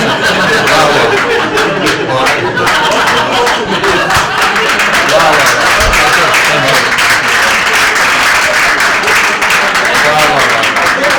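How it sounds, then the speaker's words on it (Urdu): A mushaira audience breaks into loud, sustained applause, dense clapping filling the hall throughout, with scattered laughter and voices mixed in. "جب بھی سامنے سے تالیاں آئی"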